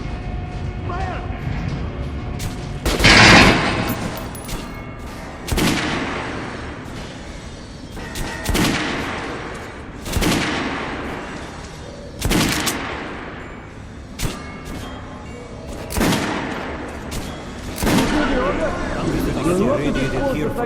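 Soldiers firing in the post-apocalyptic shooter Metro Last Light, with loud gunshots and short bursts cracking out every couple of seconds, ringing against a steady background of battle noise and distant shouting voices.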